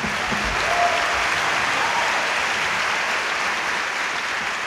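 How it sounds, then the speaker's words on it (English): Audience applause for a speaker at a panel on immigration and sanctuary cities, a steady, full wash of clapping from a roomful of people that holds at an even level throughout. "round of applause for Nadia."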